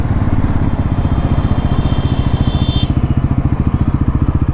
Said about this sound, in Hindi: जो इसका जो साउंड है ना, जो आइडल साउंड है, वो भी इतना ज़्यादा प्यारा है